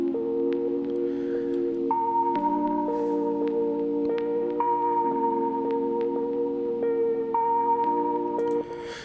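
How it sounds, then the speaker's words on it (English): Sustained synthesizer keys from a Korg Kronos play a slow chord progression, smooth and steady, with soft clicks at each chord change and no voices. "a key sound from the Korg Kronos"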